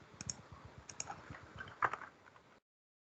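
Fingers tap a computer keyboard in a quick, uneven burst of small clicks for about two and a half seconds, close by and fairly quiet, with no voices, then stop.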